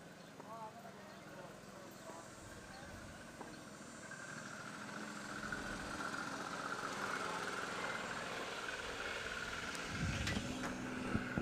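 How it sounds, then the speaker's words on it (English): City traffic rolls past an outdoor lawn bowling club in Burlington during a tournament, a steady mid-distance road rumble that swells toward the end with one louder vehicle passing close. "For whatever reason, Burlington Lawn Bowling Club has a lot of city traffic going by"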